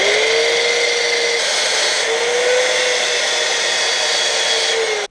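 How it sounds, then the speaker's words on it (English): A power sander on an elm wooden bowl whirs loudly and steadily, its motor pitch rising and falling slightly before cutting off abruptly at the end. "power sander just to finish everything off"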